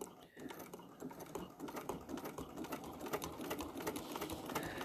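Sewing machine stitching quilt binding at a corner, a quiet, rapid steady needle clatter running throughout the clip.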